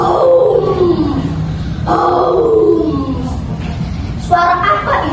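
A human voice imitates a tiger's roar at a children's storytelling competition, producing loud, drawn-out growling roars with falling pitch, repeated twice, amid a noisy hall.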